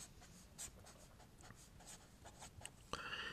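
A pen writes an equation by hand, a faint, soft scratching of short strokes with brief pauses between them, heard close and alone in a quiet room.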